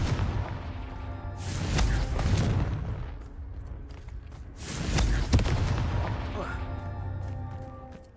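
In Hogwarts Legacy, a Confringo fire-blast spell bursts twice in explosive whooshing booms over a tonal game soundtrack, with a voice heard between them.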